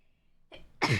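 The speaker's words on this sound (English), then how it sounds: "Sneeze check" A single sneeze, a faint intake of breath followed by a sharp burst, close and brief in an otherwise quiet room.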